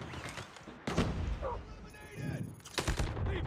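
An HDR sniper rifle fires in Call of Duty Mobile, two sharp loud shots about two seconds apart, with radio-style game voice lines in between.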